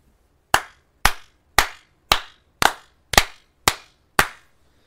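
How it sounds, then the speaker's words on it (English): Eight sharp hand claps in an even, steady rhythm, each a crisp close slap with a short decay, clean and alone against a quiet room. "I'm ready to clap"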